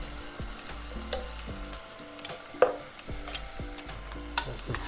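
Baked beans are stirred into red spices in a pot over low heat, a soft continuous sizzle broken by repeated scraping and knocking strokes from the spoon, with no one talking.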